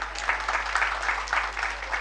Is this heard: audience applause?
yes